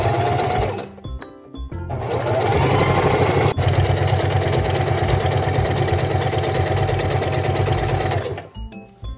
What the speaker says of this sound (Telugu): సో ఫస్ట్ నీడిల్ని పెట్టేసి ఒక్క 2 స్టిచెస్ వేస్తాం.